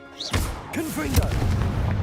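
A Confringo blasting spell cast in Hogwarts Legacy, a sharp explosive boom bursting out near the start, followed by crackling magical whooshes and a lingering rumble, with a voice speaking over the effect.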